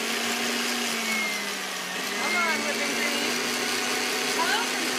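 Electric mixer whisking whipped cream for a key lime icebox cake, a steady mid-pitched motor whine with a faint wavering tone, carrying on continuously at moderate loudness.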